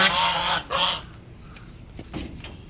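Ducks, including black ones, honking and quacking nearby in a few short loud bursts, followed by softer scattered calls.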